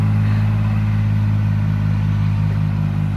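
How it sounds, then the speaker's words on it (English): A tractor's engine runs steadily nearby at a low, even rumble with light clatter as it drives back to the barn, no voices over it. "they head back to the barn to put the tractor away"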